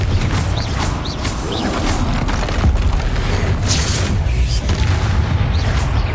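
Magic spell blasts from Bombarda and Confringo in the Hogwarts Legacy video game, a dense run of heavy booming explosions and crashes layered over loud game sound, with a voice calling out briefly.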